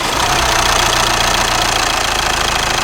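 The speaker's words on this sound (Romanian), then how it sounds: "Mai lăsăm să se mai încălzească motorul." A car engine idling as it warms up, with very low compression, a loud steady rumble with an uneven knocking pulse, up close and alone.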